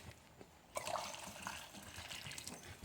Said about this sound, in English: you want to add more water to it, which I'm going to do.